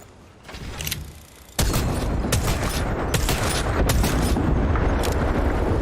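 Knuckle cluster explosives from Apex Legends going off in a rapid string of loud blasts and crackling bursts, dense and sustained after a sudden onset, with no voices.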